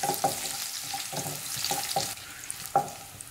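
Crushed garlic fries gently over a low flame, a soft steady sizzle broken by a few distinct scrapes and knocks of a spoon stirring in the pan.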